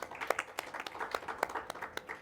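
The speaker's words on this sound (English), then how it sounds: "Let us applaud Professor George Okello Abungu" A symposium audience on cultural heritage restitution gives a professor a light round of applause, a thin, distant patter of individual claps with a few sharper hits standing out over the quiet room.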